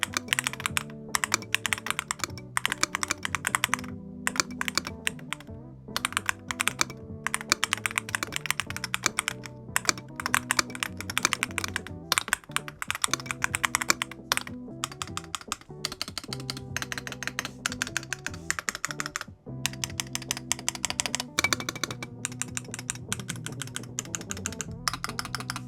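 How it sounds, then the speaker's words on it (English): Rapid, continuous clacking of a REAL67 mechanical gaming keyboard being typed on, crisp and close, with brief pauses between bursts. "So here's a typing test."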